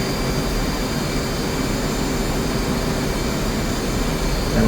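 Steady, loud F/A-18C Hornet jet engine roar in the DCS flight simulator, a dense continuous whine and rush that holds level as the throttle eases up, with no talk over it.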